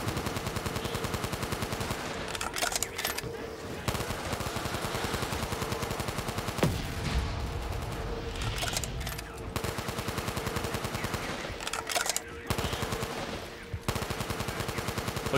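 Sustained rapid machine-gun fire in a Call of Duty Zombies match, long rattling bursts broken by brief pauses and reload clicks, loud and close against game ambience, with no talking.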